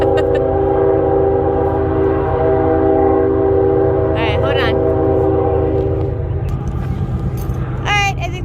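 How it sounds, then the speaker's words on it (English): A train rumbles past steadily at close range while its horn sounds in two short bursts mid-way and once more near the end. A person speaks briefly over the noise. "I think the train has maybe mostly passed."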